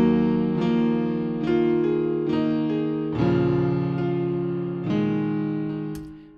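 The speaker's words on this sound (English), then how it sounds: "And this is going to turn the piano to sound like this." FL Studio Basic Keys piano, warmed with a Fruity Multiband Compressor preset, plays a slow series of soft, mellow chords that ring out and decay one after another, heard alone without any talking.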